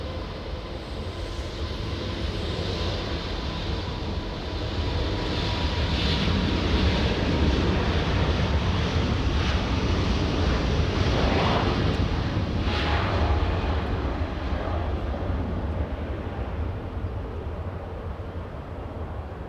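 Lufthansa flight LH453 airliner taking off from Los Angeles LAX, a loud, steady broadband jet roar that builds in the first seconds and holds strong throughout, with some wind rumble at the microphone.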